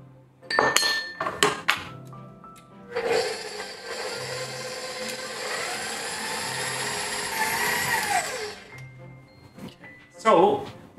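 A mixer or bowl being worked for gluten-free currant cookie dough: clinks and knocks of utensils against a bowl, then a sustained whirring run of several seconds, with a few more clatters after.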